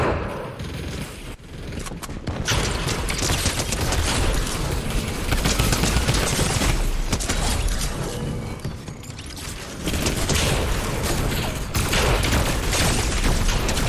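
Sniper gunfire in a shooter video game, a dense, loud barrage of cracking shots and booms that keeps going, briefly thinning in the middle, with no talk on top.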